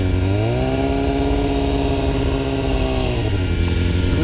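A motorcycle engine held at high revs while lifting into a wheelie, a loud, continuous close-up roar that dips slightly in pitch partway through, then climbs again near the end.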